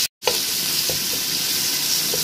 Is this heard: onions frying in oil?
yes